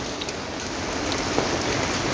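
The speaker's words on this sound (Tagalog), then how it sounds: "Lakas po yung ulan ngayon." Heavy rain pours steadily near a school, a dense, loud, unbroken hiss of drops hitting surfaces, with no voices.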